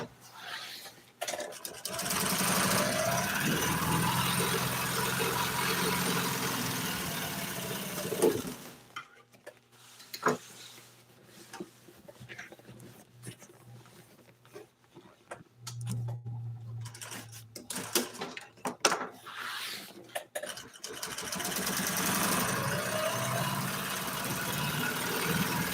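A sewing machine stitches upholstery for 1955 Chevy seats, running in long steady whirring stretches that stop midway for quieter handling and clicks before starting up again, heard close.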